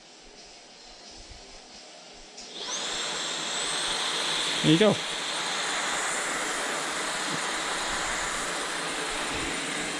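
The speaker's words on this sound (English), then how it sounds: "So right now you're vacuuming and mopping at the same time." LG Kompressor stick vacuum cleaner switched to its stronger suction setting, starting up partway through and holding a loud, steady whine with airflow rush, a person speaking briefly over it.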